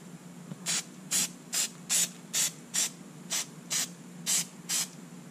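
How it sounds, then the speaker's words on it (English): Ten short bursts of K&N air filter oil from an aerosol can sprayed onto a Yamaha V Star 1300 motorcycle air filter, evenly spaced hisses over a low steady background hum, close and clear with no talking. "I'm gonna go and spray some of this on here."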